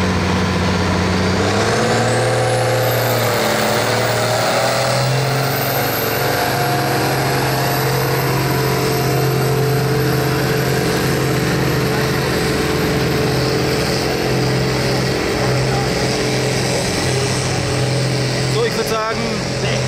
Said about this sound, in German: Ich werde jetzt den ersten Trecker filmen